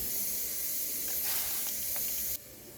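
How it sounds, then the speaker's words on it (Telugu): Spices tempering in a ladleful of hot oil in a pan give a steady, close sizzling hiss that swells briefly and then drops away abruptly near the end. "ఇప్పుడు ఒక ప్యాన్ తీసుకొని ఒక గరిట ఆయిల్ వేసి పోపు పెట్టుకోవాలి"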